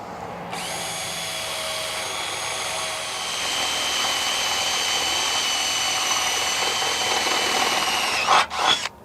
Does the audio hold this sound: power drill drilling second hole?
yes